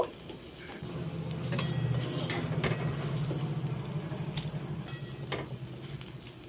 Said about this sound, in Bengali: সেদ্ধ করে রাখা কাঁঠালের বীজটা দিয়ে কিছুক্ষণ একটু নাড়িয়ে চাড়িয়ে ভেজে নেব